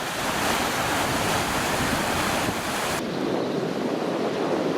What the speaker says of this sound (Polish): Po pierwszym stopniu widać, że już woda się przelewa.